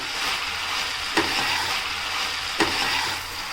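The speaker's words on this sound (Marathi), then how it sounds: "पनीर चिली बनवताना आपल्याला गॅस फास्ट ठेवायचे आहे" Paneer chilli with capsicum and onion stir-fried on high flame sizzles loudly and evenly, broken by two sharp scrapes of a spatula tossing the pan, close up and with no talking.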